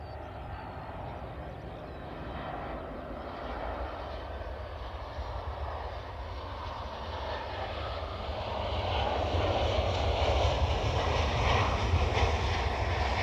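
Airliner landing at Dublin Airport, its engine roar a steady broadband rumble that grows louder toward the end, heard from some distance outdoors with no talk.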